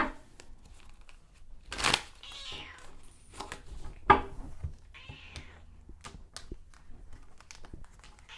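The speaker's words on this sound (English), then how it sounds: "Speaking of cats, it's you, Leo." A cat meows a few times in a quiet room, short scattered cries with soft crinkling and rustling between them.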